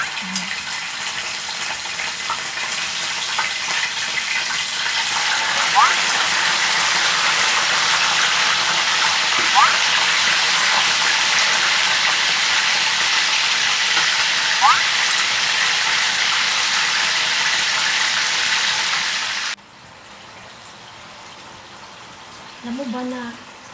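Marinated chicken liver and gizzard fry in a hot pan with a loud, steady sizzling hiss that runs for about twenty seconds before dropping off abruptly to quiet, with a brief voice near the end.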